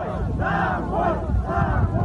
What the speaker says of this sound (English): they faced a crowd shouting